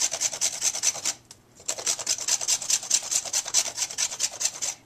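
A frozen ginger root is rubbed against a grater over a pot of pumpkin soup, producing a quick, even rasping rhythm of short strokes up close, with one brief pause.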